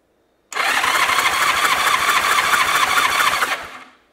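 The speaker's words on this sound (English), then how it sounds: "I'm gonna turn the key switch on. Hold the throttle wide open. Hold, there you go. And hit the starter button." A Honda motorcycle engine, abandoned with a seized engine and a dead cylinder, cranks on its electric starter with the throttle held wide open during a compression test: a loud, steady, even churn lasting about three seconds, then stopping.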